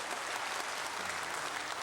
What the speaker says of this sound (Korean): 저희가 그럼 축하의 박수를 드려야지요